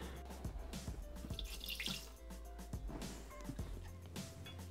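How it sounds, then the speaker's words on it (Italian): About 100 g of water is poured into a Thermomix bowl for pumpkin bread rolls, a steady splashing and dripping trickle close by with small clinks, no voices over it. "Iniziamo la ricetta mettendo all'interno del boccale 100 g di acqua"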